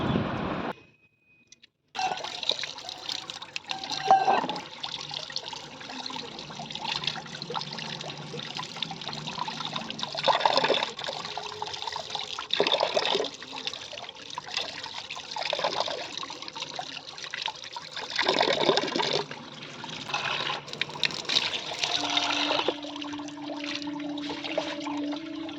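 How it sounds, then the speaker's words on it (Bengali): Running water from a tap while fish is washed for a home-cooked fish curry, a steady close splashing stream with shifting gurgles and brief handling sounds, no talk. "এখানে আমি চলে এলাম মাছ ধুতে, আর একটু মাছ ধুয়ে নিলাম"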